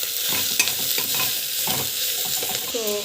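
Kohlrabi sautéing in a hot pan, a continuous close frying sizzle broken by quick spoon-stirring scrapes, loud and without speech.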